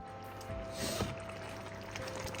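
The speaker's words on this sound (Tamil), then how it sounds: "தண்ணி சும்மா ஒரு 100 மில்லி தண்ணி ஊற்றிக்கிறேன்" About 100 ml of water poured into mutton masala in a pan for mutton sukka, a soft splashing pour that peaks briefly near the middle over a low kitchen hum and faint sizzle.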